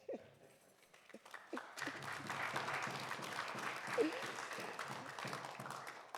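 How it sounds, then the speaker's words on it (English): A crowd applauds for Councillor Sandra Marcella Samuels at a community gathering. The clapping starts soft and scattered, then swells into a steady, moderately loud round with some voices mixed in. "Round of applause."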